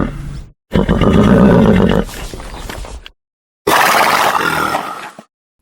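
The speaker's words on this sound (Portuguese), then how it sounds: "Acertou quem respondeu cavalo." A horse neighs in two loud, rough bursts close by, the first a long shuddering whinny and the second shorter after a brief silence.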